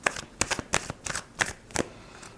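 Tarot cards handled and drawn from a deck during a reading, giving a quick run of crisp papery flicks and riffles, close and fairly quiet, with no talking.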